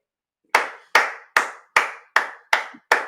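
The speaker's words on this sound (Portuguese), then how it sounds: "mas eu vou bater palma com o Fortaleza" Hands clapping seven times in a slow, even rhythm, each clap sharp, close and loud against silence.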